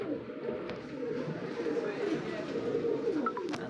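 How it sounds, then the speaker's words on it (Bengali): A highflyer pigeon coos close by in soft, low, throaty murmurs that repeat steadily, with faint background voices and a little room noise. "দেখতে পাচ্ছি হাইফ্লার একটা কবুতর"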